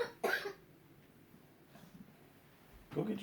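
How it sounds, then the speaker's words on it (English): A young girl coughs in short, sharp bursts close to the mic, one fit at the start and another at the end, with near-silence between. "you gonna let me finish this or you gonna cough it all the way out?"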